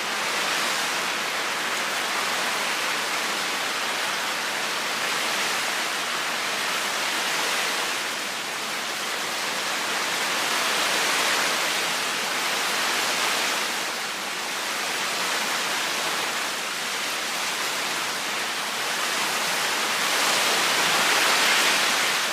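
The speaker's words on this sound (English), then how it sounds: "it's pouring out there" Heavy rain pours down outside a workshop, a dense, unbroken hiss that swells and eases slightly over about twenty seconds, with no voices.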